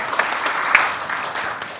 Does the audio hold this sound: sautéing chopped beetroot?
no